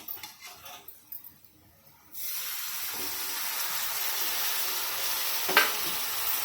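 Tomatoes hit a hot pan and burst into a loud, continuous sizzle after a few seconds of quieter stirring and scraping, with a brief clatter partway through the hiss.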